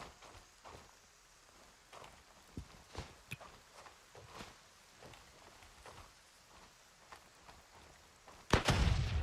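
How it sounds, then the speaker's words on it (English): A frag grenade bursts close by in Gray Zone Warfare, a sudden loud broadband blast near the end following a stretch of quieter scattered footstep-like impacts and thuds. "that grenade was a little bit too close"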